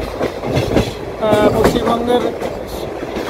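A long-distance Silchar Express train crossing from West Bengal into Assam rumbles steadily along the rails, with a brief tonal whine mid-way, while someone narrates over the noise.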